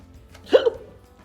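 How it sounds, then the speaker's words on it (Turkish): A single sharp hiccup from a person at an iftar meal table, close and clear over quiet room tone. "Ay hıçkırık tuttu beni ya."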